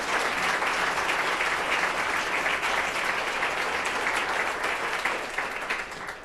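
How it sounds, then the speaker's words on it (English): Audience applause for Bill Lhota in Columbus, a dense, steady wash of clapping from a sizable crowd that holds throughout and begins to taper off near the end. "Let's give him a round of applause"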